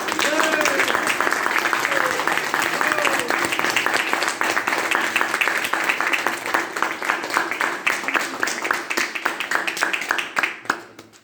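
An audience claps loudly to welcome a speaker onto the stage, with dense sustained applause that gradually thins into scattered claps before fading out.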